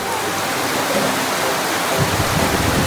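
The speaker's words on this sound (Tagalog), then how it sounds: "Sarap maligo ng ulan" Steady rain pours down outdoors while a child plays and bathes in it, a dense continuous hiss filling the scene and growing slightly heavier toward the end.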